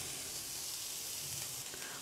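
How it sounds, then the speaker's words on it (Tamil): Onion, capsicum and garlic are sautéed in a pan, giving a faint, steady hiss of sizzling oil that carries on quietly and evenly with no voices. "வெங்காயம் சேர்த்து லைட்டாக ஒரு வதக்கு வதக்கி விடுங்க."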